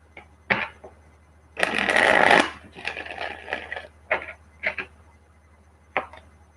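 A quick riffle of tarot cards lasting about a second, surrounded by scattered soft taps and shuffling clicks from handling the deck.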